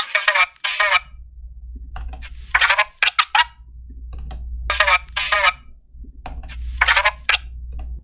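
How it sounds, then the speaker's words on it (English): Record scratch sample in a beat: sharp, choppy bursts of scratching stutter back and forth in quick clusters over a low, steady bass hum. "Then I got this scratch sample off a splice."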